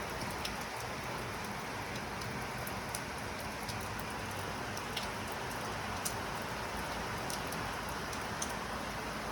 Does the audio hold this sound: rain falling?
yes